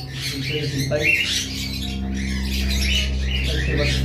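A pair of cockatiels, a white female and a yellow male, gives repeated shrill squawks and chirps up close against a steady low hum, with a voice talking over them.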